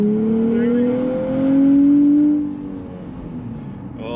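A 2023 Nissan Z launches hard and accelerates, its engine note rising in pitch through a strong revving surge before easing off, loud and close with no talk.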